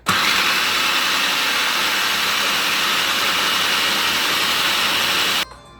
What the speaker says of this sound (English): So we're gonna do it in a food processor.